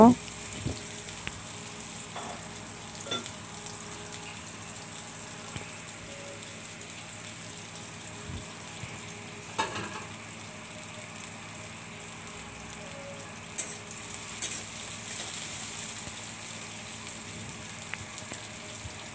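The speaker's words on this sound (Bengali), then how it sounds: "এখন তেলের মধ্যে দিয়ে দিলাম পেঁয়াজ কুচি কাঁচামরিচ কেটে রাখা দিয়ে সামান্য একটু নেড়ে চেড়ে নেব" Chopped onion and green chili frying in oil, a steady, soft sizzle running throughout with occasional light stirring knocks, fairly faint and even.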